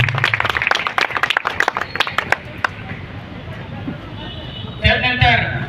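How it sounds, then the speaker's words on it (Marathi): An outdoor crowd at a public gathering in Vikramgad claps in a burst of scattered applause that thins out, with someone speaking over it and a louder voice briefly cutting in near the end. "टाळ्या कमी नका पडू देऊ"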